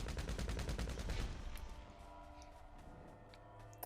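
Rapid bursts of automatic gunfire in the online multiplayer game GTA Online: a dense, loud stream of shots, one after another, that tapers into fainter scattered reports and a trailing hum.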